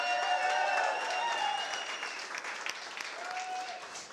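A studio audience at a Green Bay Packers talk show applauds in a dense, even patter that tapers slightly toward the end, with voices faintly mixed in.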